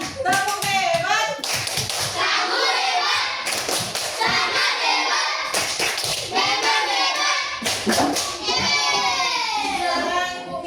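Children in a classroom do a 'tepuk hebat' cheer, several clusters of loud rhythmic hand claps alternating with their shouted, chanted voices, close and energetic throughout.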